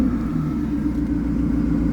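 A used car's engine idles steadily after being started at a dealership, a close, continuous low rumble with no voices over it.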